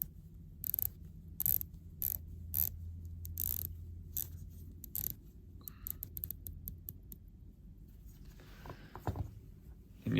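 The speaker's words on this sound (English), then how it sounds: "let's take a listen to bezel action. You do have a bi-directional bezel on your Tudor" The bi-directional 120-click bezel of a Tudor Pelagos FXD watch turns in quick bursts of sharp, close ratcheting clicks with short pauses between them, followed by softer rustling handling.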